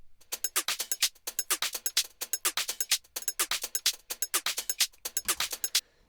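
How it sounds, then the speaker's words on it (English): Rolling hi-hat topper drum loop, a rapid run of crisp, bright hat hits in a steady rolling rhythm with occasional quick rolls, loud and up close with nothing else playing. "So the thing that I've gotten here is a rolling hat topper"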